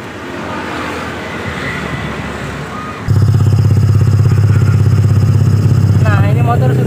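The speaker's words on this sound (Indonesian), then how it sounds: "Nah, ini motor sudah saya nyalakan." A Honda Vario 125 scooter with its V-belt fitted reversed starts up partway through and settles into a loud, close, steady engine idle after a stretch of softer background noise.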